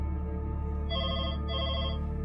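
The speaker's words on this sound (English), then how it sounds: "phone rings once again" A telephone rings in two electronic bursts over a low steady hum, close and fairly quiet, with no one talking.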